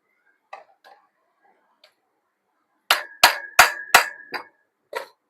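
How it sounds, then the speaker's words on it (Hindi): Close, sharp hammer blows drive a part into place on a homemade battery fan, with a few light taps first, then a quick run of four hard strikes and a couple of softer knocks. "अच्छे से इसको ठोक देना है नहीं तो ये निकल सकता है बाद में।"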